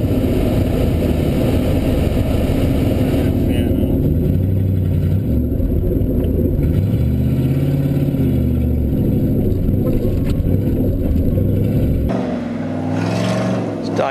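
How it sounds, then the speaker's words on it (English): A big Dodge race car engine roars loudly and continuously on an oval track, with harmonic engine tones rising and falling as the car runs and slides sideways, its pitch shifting near the end; talk comes and goes over it. "It's Dave in the big Dodge"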